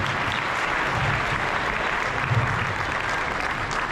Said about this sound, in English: How about a round of applause for our Maricosta administrators?